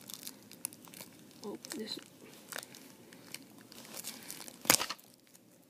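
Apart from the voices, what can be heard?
tearing open packaging by hand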